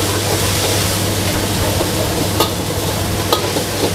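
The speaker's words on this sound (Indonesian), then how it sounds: "Nah, sekarang kita masukin si saus kecapnya." Beef sizzling hard in a hot pan as homemade soy sauce goes in for a Chinese-restaurant-style dish: a loud, continuous frying hiss with a couple of faint clinks and no talking.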